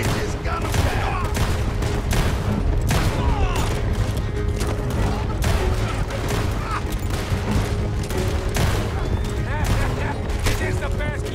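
Rapid gunfire volleys crackle continuously during a stagecoach robbery in the Red Dead Redemption 2 video game, dense overlapping shots and booms under shouting voices throughout.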